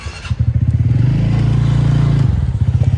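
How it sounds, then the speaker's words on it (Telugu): A motorcycle engine runs loud and close, its pulsing throb rising as it revs for a moment and then dropping back to a steady idle, with no voices. "బండి స్టార్ట్ చేస్తే మనం కూడా వెళ్ళిపోతాం"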